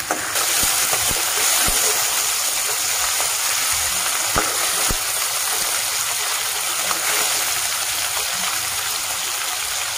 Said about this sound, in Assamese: মাছখিনি মই আধাহে ভাজিম।